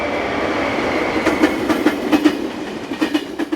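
Class 350 locomotive 350-020 hauling passenger train 606 on the Tatra Mountain route in Slovakia, running steadily past nearby with a rhythmic clickety-clack of wheels over rail joints under a continuous rumble.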